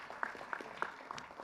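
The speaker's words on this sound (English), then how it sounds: "But that clapping is very soft." Soft, sparse applause from delegates in a congress hall, a few scattered claps heard faintly against a quiet room.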